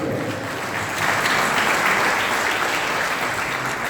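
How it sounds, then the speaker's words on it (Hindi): An audience bursts into a dense, continuous round of applause welcoming a doctor at an event in Bihar, the clapping swelling louder after the first second and holding steady. "डबल तालियों से इनका स्वागत किया।"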